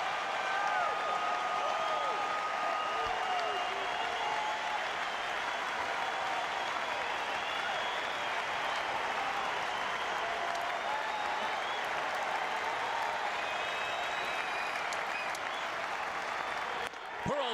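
A Fenway Park crowd at a Cleveland at Boston baseball game roars and applauds steadily, a dense, sustained wall of cheering from a packed stadium, with faint speech underneath.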